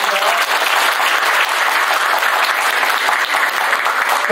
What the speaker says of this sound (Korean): 한 분 한 분 소개될 때마다 힘찬 박수 부탁드리겠습니다.